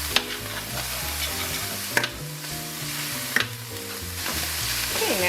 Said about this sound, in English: I'm going to stir those around.